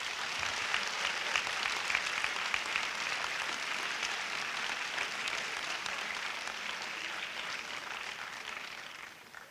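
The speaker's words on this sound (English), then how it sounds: "One last time, let's give up a round of applause." An audience at a school letter jacket awards ceremony gives a round of applause, a broad wash of many hands clapping heard from some distance, steady and moderately faint, thinning slightly toward the end.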